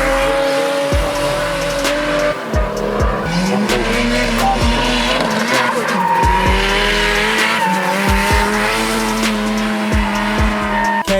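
Drift cars at the HL Drift Cup scream through long tire-squealing skids over howling race engines, loud and continuous with repeated revs and screeches throughout.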